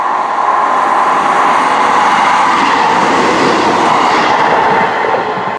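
ScotRail train on the Croy line leaving Lenzie station for Bishopbriggs, a loud continuous rolling rumble of wheels and carriages that holds steady, then cuts off abruptly, with no voices.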